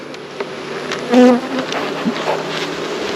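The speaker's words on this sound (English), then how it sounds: "So we got a lot of bees down here." Honey bees buzz steadily around an open beehive during a hive inspection, a dense close hum with one louder bee passing near the microphone midway.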